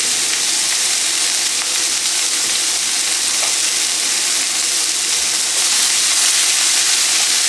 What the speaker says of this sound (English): Cook this down with your sausage, peppers and onions, and throw some tomatoes in there